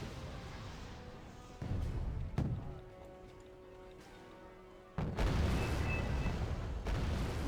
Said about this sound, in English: second smoke rounds hitting the ground